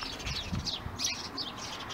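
Wild birds chirping in woodland during a picnic, a steady mix of small tweets and calls at moderate distance, fairly busy and continuous with no talking over it.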